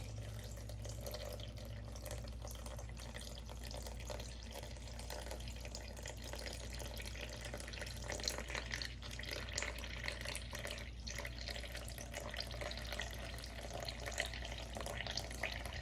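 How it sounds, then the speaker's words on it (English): A gentle, continuous stream of water running into a bowl, soft and steady over a low hum. "375 grams of cool water. So I'm just gonna pour it in."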